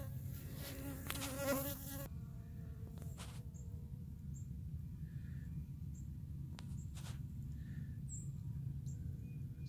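Honey bees collecting pollen buzz up close, a soft continuous hum with brief louder passes as individual bees move near, no voices.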